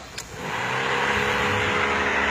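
A Mazda Lantis 1.8 engine starts up after the ignition is turned: a brief click and crank, then a steady, close engine hum settling into idle.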